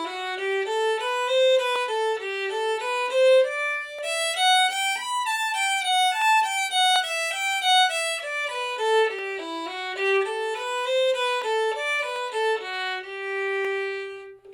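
A fiddle plays the A part melody of the bluegrass tune Blackberry Blossom at a slow tempo, solo and close, with smooth bowed notes flowing steadily and a long held final note.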